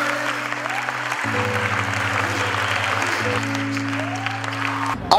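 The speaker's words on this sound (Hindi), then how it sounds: "तो एक बार जोरदार तालियां होनी चाहिए।" Sustained applause from an audience at an event with Rajasthan Police, a steady even clapping layered over a droning musical background, ending with a brief louder burst.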